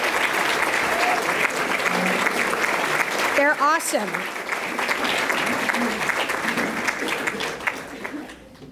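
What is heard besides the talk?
audience applause for staff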